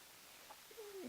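A single bird call, given as a nightingale, rises faintly near the end as a short sliding tonal note after near silence, soft and somewhat distant.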